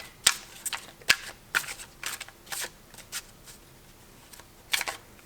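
A deck of Thoth tarot cards with thin cardstock is shuffled by hand, giving a sequence of short, crisp riffling bursts with brief pauses between them, close and fairly quiet.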